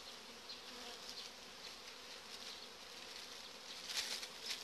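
Honeybees buzzing around an open hive colony, a steady faint drone of many insects close by with small swells, no voices.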